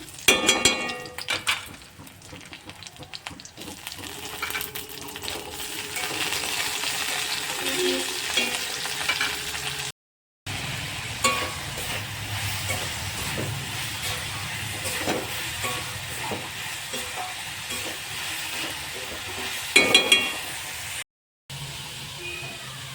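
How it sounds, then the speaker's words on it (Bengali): Panch phoron spices, green chili and ginger sizzle and spatter in hot oil, a loud crackling fry with stirring scrapes and pan clatter that carries on steadily, broken by two short silent gaps. "এই যে এখানে পাঁচ ফোড়ন কাঁচা লঙ্কার একটু আদা ফোড়ন দিয়ে দিলাম"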